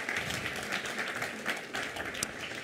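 Audience at a public talk applauding, a dense steady patter of many hands clapping together at moderate distance for a few seconds, with no voices standing out.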